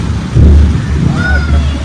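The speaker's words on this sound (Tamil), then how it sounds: "கொஞ்சம் நேரம் வந்து இந்த மழையை ரசிப்போம்" A loud, close rumble of thunder rolls through rain, swelling briefly and then settling into a continued low roar for a couple of seconds.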